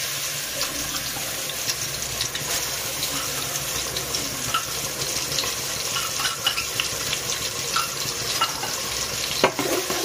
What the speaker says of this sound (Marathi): आणि आता आपण टाकूया लसूण,